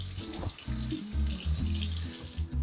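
Clear water runs steadily from a sink tap to rinse soap off a Labubu toy, a continuous close splashing stream with brief shifts as the toy moves under the flow.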